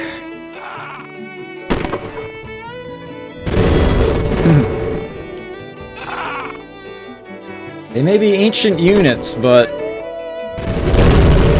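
Cannon fire and explosions boom out in Civilization: Call to Power, with several heavy bursts between stretches of someone talking over game music.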